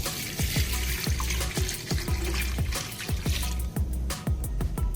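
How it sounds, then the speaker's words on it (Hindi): Water pours from a glass into a pressure cooker holding raw beef, a close splashing stream broken by rhythmic gurgles and glugs, alone without talk. "गोश्त को हमने प्रेशर कुकर में डाल लिया है। अब इसमें 4 गिलास पानी,"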